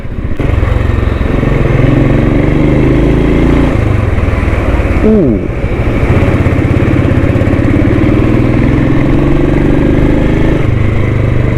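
A Royal Enfield Thunderbird motorcycle engine runs steadily up close, a loud, continuous thumping idle with a brief rev change midway, and the level holds throughout with no clear talk over it.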